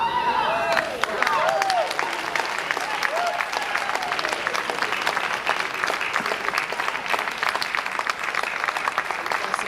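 An audience at the Milestones of Freedom campaign event, officiated by the President, breaks into dense, sustained applause lasting nearly ten seconds, with a voice briefly audible at the start.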